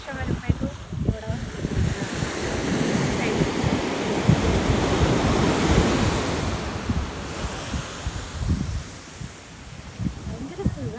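Surf rolls and breaks on a beach while gusting wind buffets the microphone, a loud continuous wash of waves and wind noise with no clear speech.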